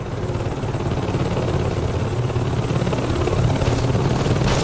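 A helicopter in the video game Saints Row 2 thrums loudly and steadily, its rapid rotor chop and engine drone continuing throughout without a break.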